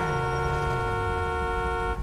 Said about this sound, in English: There's a guy that just honked at me.